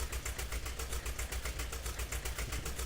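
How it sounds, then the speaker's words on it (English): A tractor engine in Farming Simulator 17 idles with a steady, rhythmic low chugging throttle pulse, fairly quiet and unchanging, with no voices. "It's a lovely sound from the tractor"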